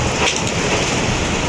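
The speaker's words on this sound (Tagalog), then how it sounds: "Sobra po talaga lakas ng ulan." Heavy rain heard from indoors in a house, a dense, loud, continuous hiss and patter with no breaks.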